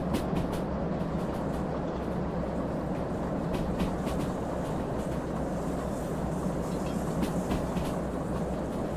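A train locomotive in the Derail Valley video game rumbles steadily with a continuous heavy rolling drone, overlaid by faint irregular clicks and creaks, with no talk.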